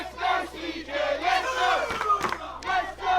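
Wrestling crowd at a pro wrestling show cheering and shouting loudly in a sustained roar, urging on a wrestler, with swelling chants and a few sharper yells near the end.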